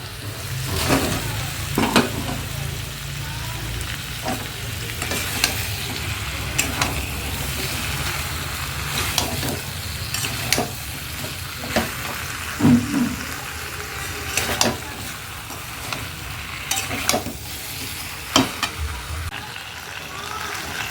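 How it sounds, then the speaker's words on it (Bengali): Fried potatoes and papaya are stirred into meat masala in a hot pan, a continuous sizzle broken by repeated scraping strokes of the spoon at a steady rhythm. "এবার দিয়ে দেবো ভেজে রাখা আলু আর পেঁপে।"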